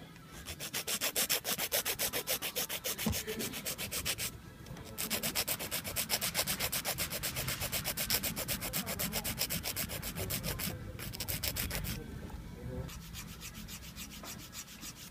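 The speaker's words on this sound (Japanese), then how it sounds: "最後は太いファイルではなくこういった細いエメリーボードで削ってあげるととってもやりやすいです" A thin emery board filing a hardened gel sculpted nail: fast, even back-and-forth scratching strokes, close and steady, broken by a few short pauses, with no talking.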